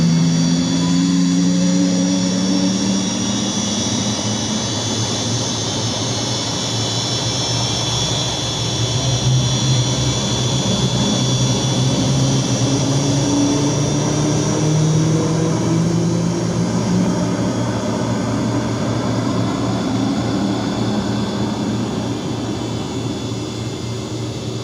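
Cessna Citation Jet 525 engine spooling up during start in a flight simulator, a loud continuous turbine whine with slowly rising tones over a steady low rumble.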